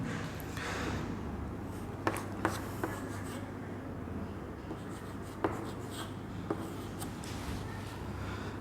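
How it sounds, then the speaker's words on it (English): Pen or marker writing on a surface during an English grammar lesson: steady scratching strokes with a few sharper taps, close and fairly quiet, with no talking. "I will write some examples to have a better understanding."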